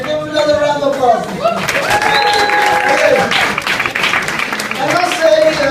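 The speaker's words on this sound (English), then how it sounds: "Socrates, ladies and gentlemen, give him another round of applause." Crowd at a comedy night in Utrecht's Hofman Cafe applauding the comedian Socrates, a sustained wash of clapping and murmur beneath talking voices.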